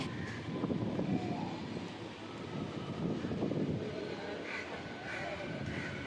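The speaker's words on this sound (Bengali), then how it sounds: "আস্তে আস্তে ট্রেন আমাদের বৈঁচি স্টেশনে ঢুকে পড়ল" A local train pulls into Baichi railway station before dawn, a low continuous rumble of wheels and engine rising and falling evenly, heard from on board with wind noise.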